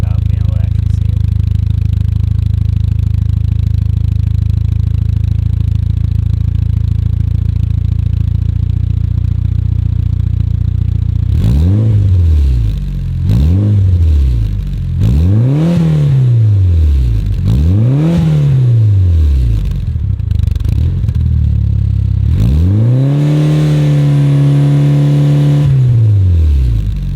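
A Mitsubishi Evo 6 fitted with an HKS Hi-Power 409 exhaust idles with a low, steady rumble, then revs sharply several times in a row before holding one longer rev. The engine is loud and close, with no talk over it.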